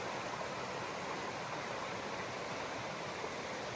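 Steady broadband rush of Bear Creek's flowing water, an even, continuous stream sound with no talk, fairly close and moderate in level throughout.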